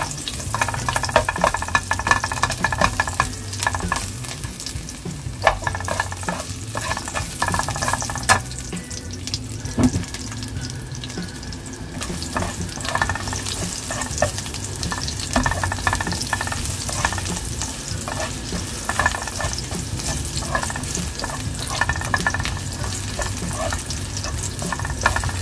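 Garlic and chicken sauté in hot oil in a home kitchen, a steady close sizzle and frying hiss with occasional stirring scrapes running throughout, and no talking.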